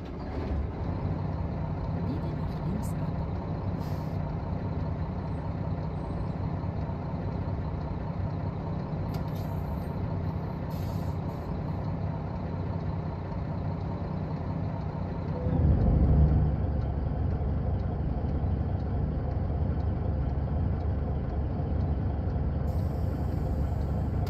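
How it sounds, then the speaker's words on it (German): Engine drone of a 280 HP Mack R Series truck in American Truck Simulator, a continuous low hum that holds steady, then swells noticeably louder and heavier partway through and stays there to the end. "So laut ist der LKW."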